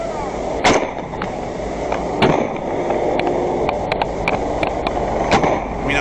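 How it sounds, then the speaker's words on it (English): Scattered gunshots fired toward a drone crack out sharply at uneven intervals, some distant and some closer, over continuous outdoor rumble and wind. "we continue to hear gunfire towards the drone"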